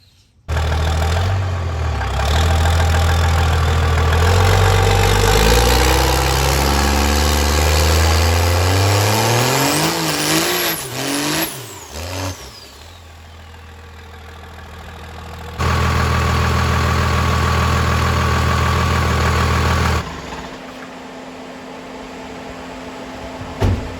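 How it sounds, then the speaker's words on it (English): A turbocharged race truck engine idles loudly and steadily, then revs up with a rising whistling turbo spool and falls back, followed by quieter stretches and another steady loud idle segment. "who doesn't like a little mini driveway burnout?"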